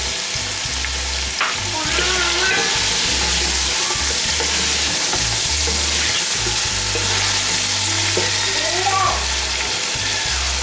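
Tomatoes fry loudly in a pan for white chicken pulao, a dense close sizzle with stirring scrapes running throughout.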